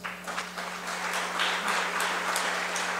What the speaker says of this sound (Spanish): Agradecemos a los participantes de esta mesa con un fuerte aplauso.